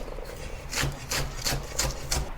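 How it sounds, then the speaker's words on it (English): A knife chops spring onions into short sections on a board, giving about six soft, scraping cuts in a loose rhythm, close and faint, with no talking. "Cut the spring onions into short sections."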